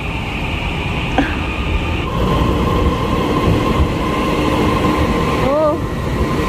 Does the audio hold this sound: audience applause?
no